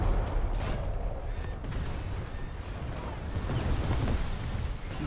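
Naval guns and explosions in the War Thunder combat game, a dense continuous rumble of booming blasts and crashes filling the whole stretch, loud and busy with no clear pauses.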